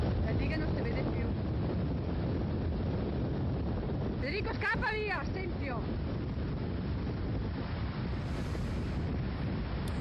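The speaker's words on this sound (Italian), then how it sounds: "Qui la potenza del vento del mare era ben chiara" Strong wind and sea waves batter the shore at Venice, a steady broadband roar filling the whole clip, with a voice calling out briefly over the gusts.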